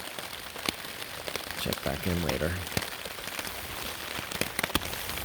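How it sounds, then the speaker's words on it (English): Steady rain patters on a forest campsite, a dense continuous hiss with scattered sharper drops striking nearby surfaces, while someone talks briefly over it. "it has been raining the entire time since, I don't know, 4 or 5 in the morning"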